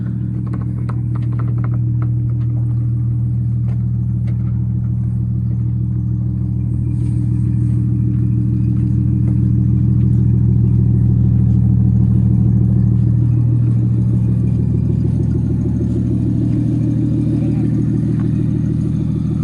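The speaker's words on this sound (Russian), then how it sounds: "Грузовик кәлер. Ол грузовиктен." Truck engine passing close by, a heavy steady low rumble and hum that swells slightly toward the middle and eases off again, continuous throughout with no talking.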